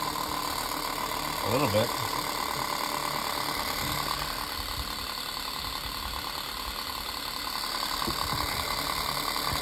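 An unbranded 7-inch desk fan runs nearby with a steady whirring hum and a faint rattly mechanical texture, while a voice briefly speaks over it near the start.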